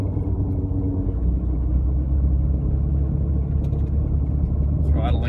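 A Jeep braking at low speed with a recurring drivetrain noise: a steady low rumbling drone from inside the vehicle, continuous and fairly loud throughout.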